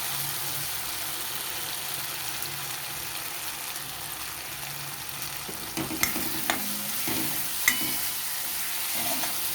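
Tomatoes cooked down to a soft mash fry with chili powder in a pan for a vegetarian chana masala. A steady close sizzle runs throughout, joined in the second half by a few clattering stirs of the utensil.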